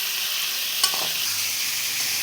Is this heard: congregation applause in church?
no